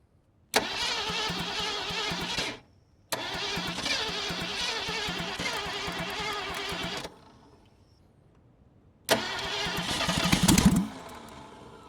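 A 1979 Ford Mustang Ghia, abandoned for over twenty years and backfiring through the carburetor, cranks and catches three times: rough, loud running bursts cut off abruptly by silent gaps, the last ending in a heavy revving surge.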